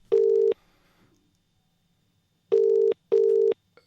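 Steady electronic phone ring tones sound in three bursts, one long ring, a pause, then two quick rings close together, loud and clean with no talk.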